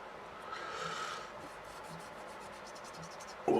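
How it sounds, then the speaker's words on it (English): A finer grit file smooths out grooves left by a coarser one, a faint soft rasping rub that repeats in slow strokes, ending with a brief louder knock. "this one just files out those little grooves"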